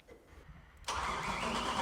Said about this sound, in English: we're just making sure when we cranked the engine that we built oil pressure